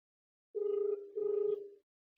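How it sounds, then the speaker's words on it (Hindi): Phone ringback tone during a call: two steady buzzing rings, each about half a second long, separated by a short pause, clear and isolated against silence. "पहले साहिल के फोन लगाई"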